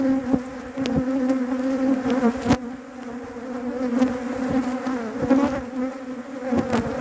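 Dense, agitated buzzing of bees close by, a steady droning hum with sharp louder passes as insects dart near, and no voices.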